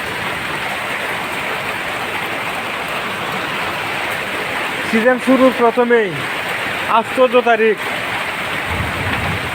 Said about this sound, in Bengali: বাইরে গেলে মাথায় পড়বে এরকম প্রচন্ড শিলাবৃষ্টি